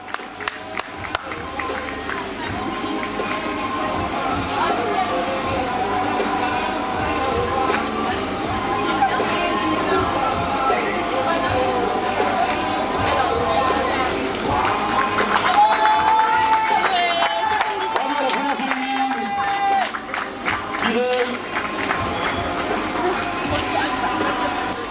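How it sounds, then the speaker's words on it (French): Outdoor finish-line crowd at a 7 km community road race cheering and clapping for the first female runner, a steady dense wash of applause and shouts with music and announcer talk mixed in. "je pense qu'on peut l'applaudir très très fort"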